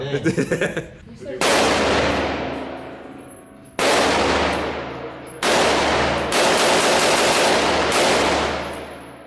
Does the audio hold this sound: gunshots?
yes